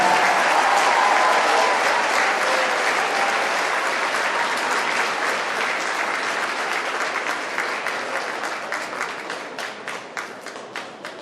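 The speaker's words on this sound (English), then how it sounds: "How about a round of applause for everybody?" A crowd in a school gym at a girls' basketball tournament gives a long round of applause, loud and dense at first, then thinning into scattered individual claps as it fades.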